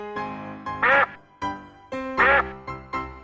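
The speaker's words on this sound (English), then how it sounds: "Duck." A duck quacks in two loud, close bursts of harsh nasal calls, each run of quacks separated by brief pauses, with no talking over it.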